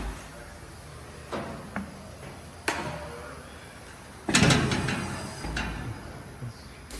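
A stainless steel, food-grade Marchant Schmidt cheese block cutter machine runs with mechanical clunks and knocks as its chamber lifts and pusher moves, a loud surge near the middle over a steady hum.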